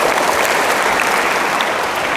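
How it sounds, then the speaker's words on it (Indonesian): Audience applause for a university faculty group during a student character-building webinar, a dense, steady clatter of many hands that holds at full strength for about two seconds with no voices. "Tepuk tangan yang meriah untuk MIPA"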